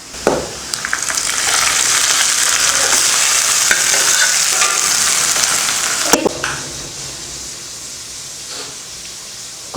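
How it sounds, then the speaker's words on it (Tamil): Onion, garlic, red chillies and curry leaves sizzle in hot oil as a tempering, a loud bright crackling hiss with stirring scrapes, broken by sharp clatters around the start and middle before easing to quieter frying. "வெங்காயம், பூண்டு, வரமிளகாய், கருவேப்பிலை. இப்போ இதை கீரையில் ஊற்றிடலாம்."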